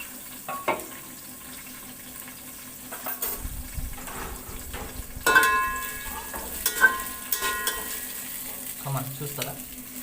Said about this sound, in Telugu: గోల్డెన్ కలర్ వచ్చే విధంగా దాన్ని మనము డీప్ ఫ్రై చేసుకోండి